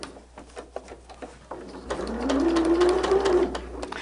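Sewing machine running around the edge of a shamrock quilt block, a close whirring burst of stitching that swells for a couple of seconds after some light tapping and handling sounds.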